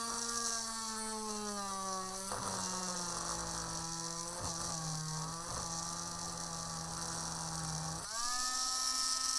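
A small power drill bores into a Goliath Rockgrinder miniature to fit magnets, a close, whining motor hum that dips in pitch under load several times, then spins back up.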